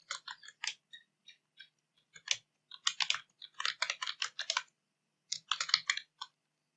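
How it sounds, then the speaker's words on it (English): Typing on a computer keyboard while entering HTML header tags, quick bursts of crisp close key clicks separated by short pauses, fairly quiet with no talking. "I'm typing"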